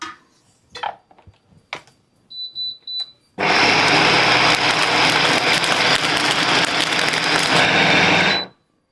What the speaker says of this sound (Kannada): ಸಂಕ್ರಾಂತಿ ಎಳ್ಳು has gone in to the mixie